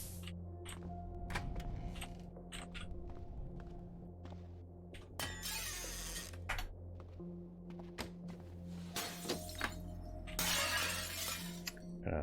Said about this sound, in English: Now that I've broken the window, though, the roaches can get out.